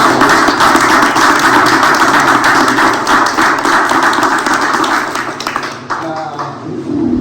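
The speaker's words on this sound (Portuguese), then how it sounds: "uma salva de palmas" Audience applause for a speaker being introduced at a conservative leadership meeting in Rio de Janeiro, dense sustained clapping that fades toward the end as a voice begins.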